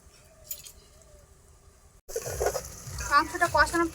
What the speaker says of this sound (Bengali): মাংসটা কষানো প্রায় হয়ে এসছে।